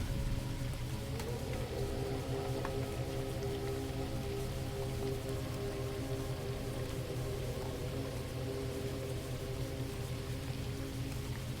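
Steady rain patters continuously on a lake, a dense even hiss with soft drops throughout and no voices.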